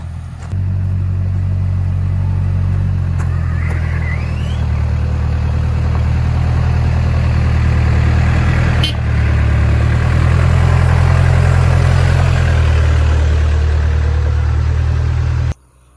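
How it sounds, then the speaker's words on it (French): A truck engine rumbles loudly and steadily close by, arriving and then idling with a deep, continuous drone for a long stretch before cutting off abruptly. "Ram ram, ça veut dire camion."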